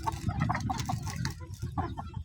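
A mother hen sitting on eggs in a woven basket clucks in a close, rhythmic series of short, throaty calls with brief pauses between them.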